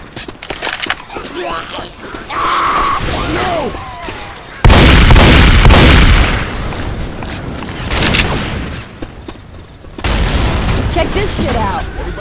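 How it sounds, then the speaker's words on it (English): Loud game gunfire and booming grenade-launcher blasts from Left 4 Dead 2 at the Dark Carnival fairground, several heavy bursts in a row with excited voices talking over the chaos. "Grenade launcher."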